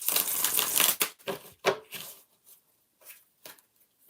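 Reading cards being shuffled, a dense close riffle at the start followed by scattered softer slaps and flicks with pauses between them.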